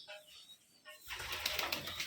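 Pigeons in a loft at a pigeon farm in Rajshahi, cooing and stirring in soft, close bursts that grow busier and denser partway through, with no talking.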